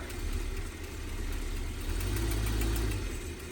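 Winnebago Brave motorhome engine running steadily as it is shifted into drive, a low, continuous rumble that swells slightly toward the end, alone with no talk.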